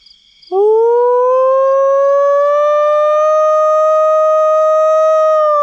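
A person imitating a wolf howl: one long, loud, clear tone that rises slightly and holds steady for several seconds, heard alone.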